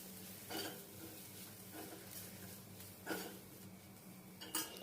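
Turmeric, chilli powder and meat masala roasting in a pan over a low flame, stirred with a spoon in a few soft scraping strokes spaced apart over a faint, quiet background.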